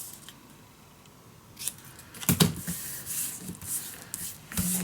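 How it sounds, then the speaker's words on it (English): Small scissors snip paper for a handmade mini album, a few quiet, crisp cuts and rustles close by with short pauses between them, in an otherwise still room. "Maybe have to cut these just a little tiny off."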